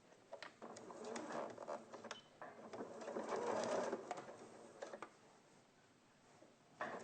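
A sewing machine stitching binding onto fabric, a fast, even mechanical whirr with clicking pulses, swelling and pausing in short runs, close and fairly quiet with no talk over it.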